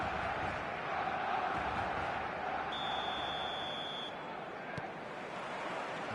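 Steady, dense roar of a big stadium crowd at the start of an eFootball match, a continuous wash of massed voices and chanting with a brief electronic tone rising partway through.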